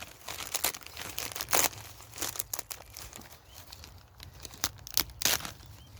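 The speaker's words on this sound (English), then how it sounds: "just tear it rather than cutting it" A plastic bag of Arran early seed potatoes is torn open by hand at an allotment plot, with close crinkling and several sharp ripping bursts spread across the stretch.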